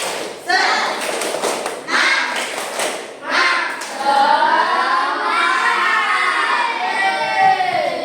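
Schoolchildren in a classroom beat out a quick rhythmic spirit clap, a few sharp bursts of clapping and thumps, then break into loud, excited group chanting and shouting.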